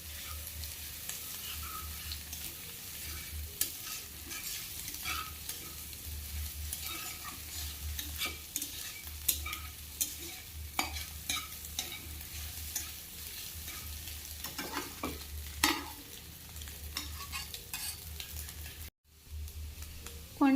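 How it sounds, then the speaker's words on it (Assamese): Beaten eggs frying with onions in a pan, stirred with a utensil: steady close sizzle under repeated scraping strokes of the spatula, briefly cutting out near the end. "ধুনীয়াকৈ এনেকৈ ভাজি ল'ব"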